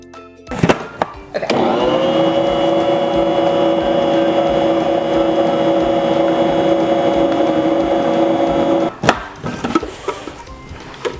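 A strawberry sugar cookie mixture is whirred smooth in an electric mixer, a loud steady motor drone that holds for several seconds between short clattering bumps at the start and end.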